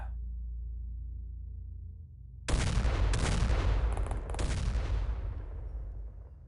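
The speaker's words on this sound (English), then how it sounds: "3 Magnum reaction fire shots" In the XCOM Files video game, a low steady hum gives way abruptly to a loud, booming volley of Magnum reaction-fire gunshots that rumbles on for a few seconds before fading.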